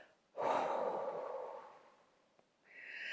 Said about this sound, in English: take a deep breath in through the nose. Exhale through the mouth.